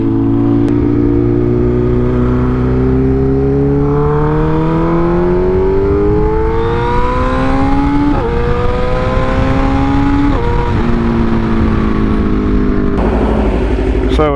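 A motorcycle running on E85 fuel accelerates hard, its engine note climbing steadily and dropping at a few gear changes before rising again. The sound is loud, close and continuous.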